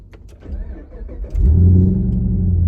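A Coyote-swapped SN95 Mustang engine idles and then revs up to a steady, louder rumble after a brief rise, close by with no talking.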